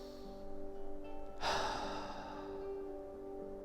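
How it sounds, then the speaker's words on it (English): One deep, slow breath drawn in and let out near the microphone over a soft musical hum, with no talking. "let's take a deep breath in"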